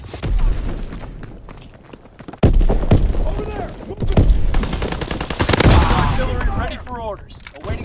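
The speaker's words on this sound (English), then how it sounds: "Call for a strafing run." Aircraft strafing-run gunfire in Call of Duty: WWII, with heavy booming impacts and rattling fire arriving in loud waves, backed by battle noise and in-game radio voices.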